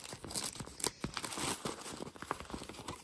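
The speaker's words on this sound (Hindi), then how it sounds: "सबसे पहले खोलते हैं कार्ड" Paper envelope of a personalised card being torn open, a close sequence of dry ripping and crinkling bursts with sharp rustles throughout.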